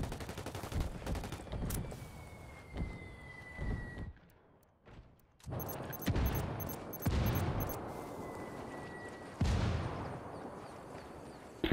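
Heavy gunfire in the tactical shooter game Ghost Recon Wildlands: dense bursts of automatic fire and sharp shots come in waves, with a brief lull midway before the firing resumes loudly.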